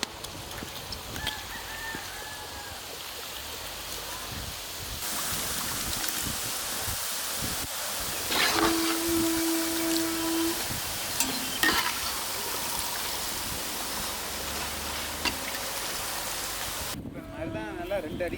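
Ribbon pakoda, long strips of Tamil-style snack dough, frying in hot oil with a steady, continuous sizzling and bubbling that fills the whole stretch at moderate loudness.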